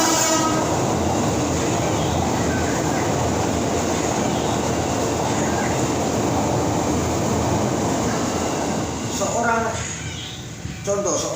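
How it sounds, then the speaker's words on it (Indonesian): A train runs close past a spot beside a railway station, a loud steady rumble and rattle of wagons lasting throughout, with a horn sounding near the end and faint talk under it. "kereta api lewat"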